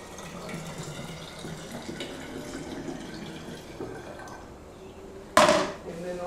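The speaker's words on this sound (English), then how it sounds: "So what you can start doing is pouring it into the bottle." Homemade water kefir is poured into a bottle: a steady, fairly faint liquid stream runs for several seconds, ending in a sudden splashy gush as the pour finishes.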